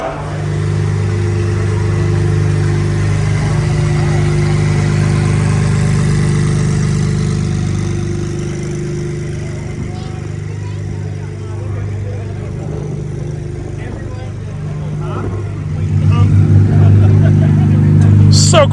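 A car engine idling at a Roadkill Nights media day, a steady low rumble that stays quiet and even like a farm truck, with a slight swell near the end.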